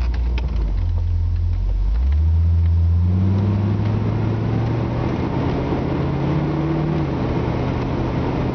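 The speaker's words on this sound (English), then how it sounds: "Here we have a 1977 Chevrolet Corvette. Let's take it for a ride. Fires up nicely." A 1977 Chevrolet Corvette engine fires up and settles into a steady drone, then pulls away with rising engine tones as the transmission shifts through gears, sounding smooth and continuous throughout with no talking.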